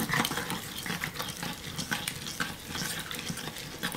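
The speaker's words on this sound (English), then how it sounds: "So I'm just going to mix this up really quick." Spicy Jamaican rice with red beans is stirred in a digital cooker, giving close, busy scraping and soft wet sizzling in quick irregular strokes.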